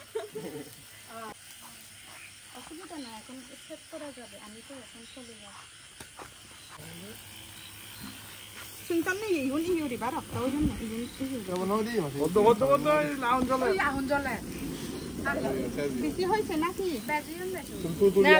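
Oil hisses and sizzles on an outdoor BBQ fire in Khagrachari, a steady hiss that grows louder partway through while several people talk over it.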